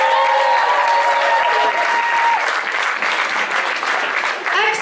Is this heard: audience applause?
yes